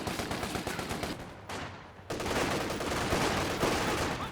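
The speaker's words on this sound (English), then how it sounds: "we're being bloody shot at" Dense, continuous small-arms and rapid gunfire from a Company of Heroes 2 battle, loud and sustained with a brief dip midway before intensifying again, no voices.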